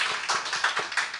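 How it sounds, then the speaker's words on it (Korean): A church congregation applauds to welcome newcomers, a brief burst of dense, steady clapping that is fairly loud and continuous. "우리 큰 박수로 환영하겠습니다."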